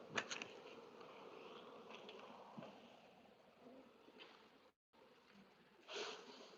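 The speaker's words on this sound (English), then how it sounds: "a lot of bees" Faint, steady buzzing of many honeybees at open Dadant hives fills the background, with soft rustling and brief shuffling sounds throughout.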